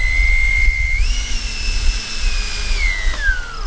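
An FMS A-10 Arctic Camo RC jet with twin 70mm EDF in-runner motors gives a loud, steady turbine-like whistle that rises in pitch, holds, then sweeps down near the end.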